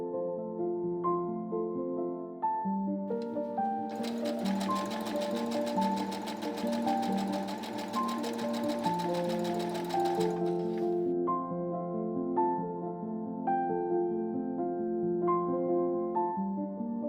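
A sewing machine stitches pieces of an elven Renaissance-faire bodice together in one continuous buzzing run of about six seconds, with steady music playing underneath throughout.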